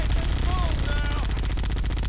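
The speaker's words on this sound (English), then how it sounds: "Two machine guns!" Twin turret machine guns in the Halo: The Master Chief Collection game firing together in a dense, continuous rattle. Close and loud, with battle noise and voices mixed underneath.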